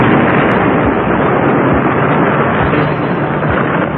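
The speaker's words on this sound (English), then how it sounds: "He fires his rocket launcher point blank into the pyramid." A rocket launcher fires point blank into a pyramid and a huge gun explodes into it, rendered as a dramatic sound effect: a sustained, loud, muffled roar of blast and rumble without a sharp onset.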